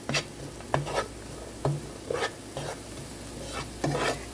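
Oxtail caramelizing in a stew pot with tomato paste over raised stovetop heat, giving a soft steady sizzle broken by several scraping stirs of a utensil against the pot.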